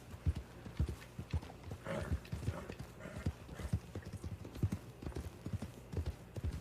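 Horses walk in the video game Red Dead Online, their hooves clip-clopping in a steady rhythm, faint and close, with a brief whinny partway through.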